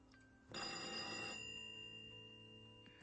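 A telephone bell rings loudly in one sustained burst, then fades into a lingering ringing tone with a quieter tail.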